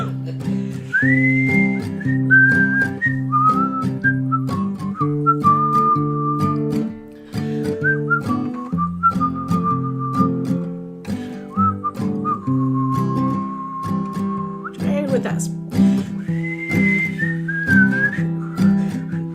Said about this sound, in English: Can we whistle